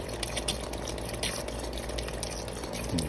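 A steady liquid spray from Honda City CNG fuel injectors on a cleaning rig, a continuous close hissing wash with faint dripping and no voices.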